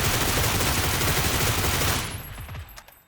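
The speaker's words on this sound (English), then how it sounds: "Oh, they're shooting." Sustained rapid gunfire in the video game PUBG, a loud dense fusillade of overlapping shots that ends abruptly, leaving a few scattered, fainter shots.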